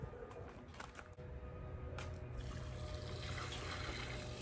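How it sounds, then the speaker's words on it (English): Water poured onto a newly planted patio plant in a backyard garden, a steady continuous splashing and trickling that runs throughout, close and fairly quiet. "Add some water to it."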